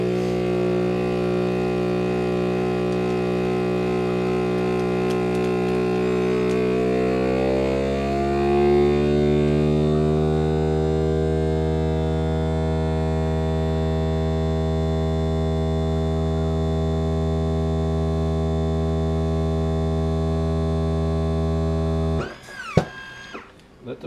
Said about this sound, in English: Let the machine decide when it's got enough air out.